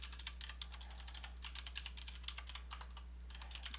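Steady typing on a computer keyboard, a quick run of light clicks and keystrokes close to the mic over a low electrical hum, with no talking.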